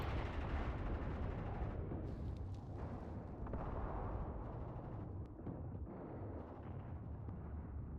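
Sustained WW2 battle sounds from the Mius Front game, with dense, overlapping gunfire and artillery rumbling continuously for the whole stretch at steady loudness, with no voices.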